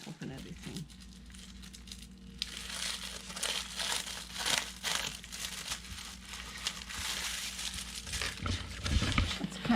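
A plastic vinyl apron is unpacked from the box of a Saker cordless buffer polisher, giving close, busy crinkling and rustling in irregular bursts throughout.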